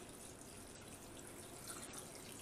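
A steady, faint stream of liquid mixed with casserole powder poured over a beef casserole, a continuous wet trickle running evenly without pause.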